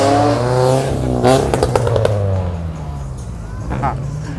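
Car engines rev and drone at a large American car meet with classic cars and supercars. The engine noise sits close and loud, with a rising pitch and some clattering, and no one speaks over it.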